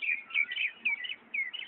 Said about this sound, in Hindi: पक्षियों का कलरव